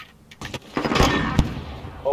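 A single sharp sniper rifle shot from a video game cracks out loud and near, preceded by a couple of lighter clicks and followed by sustained rumbling game noise.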